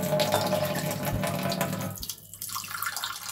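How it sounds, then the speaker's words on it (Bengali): Tap water runs into a small bowl in a home kitchen for making coffee, a steady close splashing stream that shifts in tone as the bowl fills. "দুজনের মতো জল নিয়ে নিচ্ছি।"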